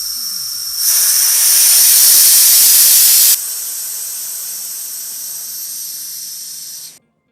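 A resin pressure pot vents its air in one long loud hiss, rising sharply to a harsh peak for a few seconds, then easing to a steadier, softer hiss before cutting off abruptly; no voices.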